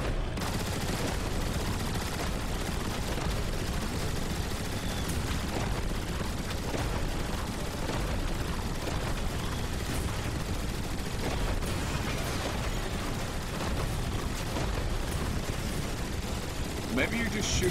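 Dense, rapid gunfire from Transformers: War for Cybertron sprays at a giant slug in a nonstop barrage of overlapping shots and booms, loud throughout, with a person talking over the shooting.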